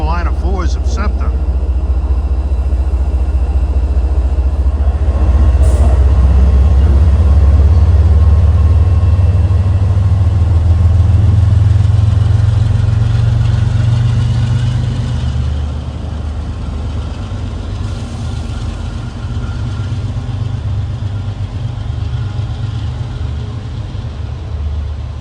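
MBTA commuter rail locomotive engines in Boston run with a heavy, steady diesel rumble that swells through the middle and then settles into a lower idle, loud and near.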